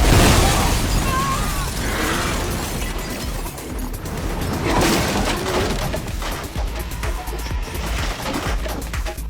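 A time bomb explosion in a bank heist movie, a loud booming blast followed by a long rumbling, crackling wash of debris and ringing noise that slowly fades.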